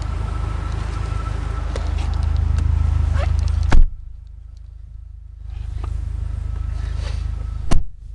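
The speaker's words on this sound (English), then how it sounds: "Let's take you on a quick test drive." Interior of a 2004 Dodge Neon with a turbo boost gauge and 108,000 miles on a test drive: a steady low road and engine rumble runs throughout, with a quieter stretch midway and two sharp thumps.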